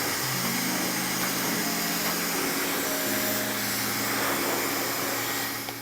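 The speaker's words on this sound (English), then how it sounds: "the alternative is just to put your head upside down and literally blast the hair all the way from the roots" A hairdryer blasts hair from the roots with the head held upside down. It gives a loud, steady, close airy roar that keeps going for several seconds.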